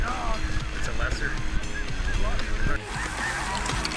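Canada geese on a hunt, many honking together at once in a loud, dense, continuous chorus that carries over open ground.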